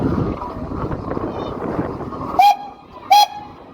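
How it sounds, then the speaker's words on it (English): A rumbling steam engine runs under brief talk at an old-time rally, then two short, loud, high steam whistle blasts sound a moment apart, close by. "There we are. All important whistle. Steam engine wouldn't be complete without."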